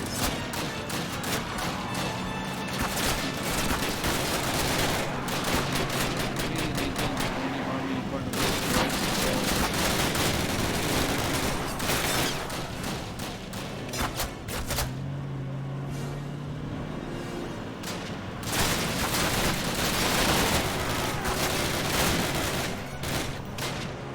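Heavy gunfire in the Call of Duty video game, with dense bursts of rapid automatic shots and loud blasts repeating throughout, close and intense, while people talk over the action.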